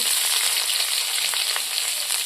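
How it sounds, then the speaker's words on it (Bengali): Onions and green chillies fry with a bay leaf in hot oil, giving a steady close hiss and crackle with faint stirring, and no talking. "তেলটা গরম হয়ে গেছে তেজপাতা দিলে আমি এখন কাঁচা লঙ্কা কটা দিই তারপরে এই যে পিঁয়াজ কিছু দিই"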